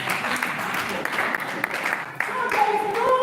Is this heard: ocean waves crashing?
no